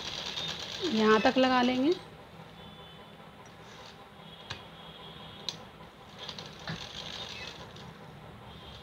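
A sewing machine stitching leftover suit fabric pieces together runs with a steady, close mechanical whir after someone speaks briefly at the start.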